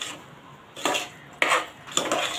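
Wheat and jaggery lapshi porridge being stirred in a pot, three distinct scraping strokes of a spoon against the metal in a quiet kitchen, fairly close, with no talk.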